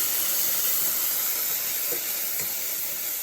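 Sauce hissing into a hot pan, a steady bright steamy sizzle held evenly throughout, close and fairly loud with no talking.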